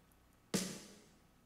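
A single close snare drum hit from the first snare track of a cover mix, a sharp crack followed by a short fading ring over a quiet background.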